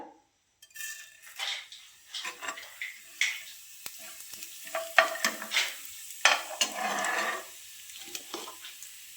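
Cumin seeds sizzle in hot mustard oil in a frying pan, with a burst of crackling and spitting that swells and fades in irregular waves, close and fairly loud, with no talking.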